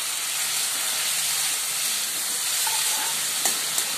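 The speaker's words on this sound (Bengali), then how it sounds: "একটু কষিয়ে নিই" Cooked vegetables sauté in a pan with tomato and ginger paste, making a continuous close sizzle and steamy hiss with faint stirring, plus a couple of small clinks near the end. No one speaks.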